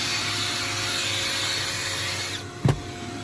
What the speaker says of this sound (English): We're vacuuming the interior